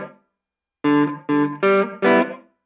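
An electric guitar through a small travel amp's second preset, dry with no reverb, plays four distorted chords in a steady rhythm, each ringing briefly then cut off, close and loud after a short opening note.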